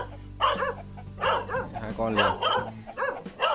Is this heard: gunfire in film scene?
no